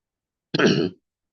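One short, rough throat clearing close to the microphone, lasting under half a second, with silence before and after.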